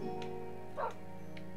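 In Minecraft on Xbox 360, a game dog gives a short bark or yip, with light game sounds and a faint tick around it.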